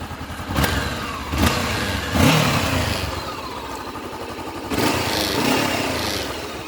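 A Honda CB500X motorcycle engine runs with a fairly quiet exhaust, rising in a few short revs before settling back to a steady rumble.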